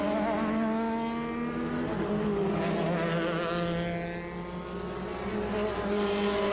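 A March 80A vintage race car runs at Sebring during an SVRA race. Its engine drones and shifts pitch as it passes at a distance, with no one talking.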